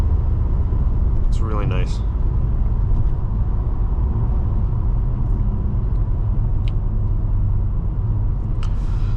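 A 2020 Nissan Maxima SV on a test drive, with a steady low engine and road rumble running throughout, heard from inside the cabin. A voice speaks briefly near the start.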